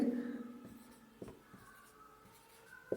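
Chalk or marker writing on a classroom board during a maths lesson: faint scratchy strokes with a couple of sharp taps, quiet and close, with a light trace of voice at the start.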